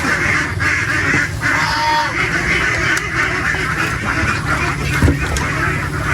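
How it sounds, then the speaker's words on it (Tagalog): A flock of ducks quacks and honks continuously and loudly at close range as they are fed corn, rice bran and water spinach on a farm, forming a dense unbroken chorus. "So tara, pakain mo na tayo itik."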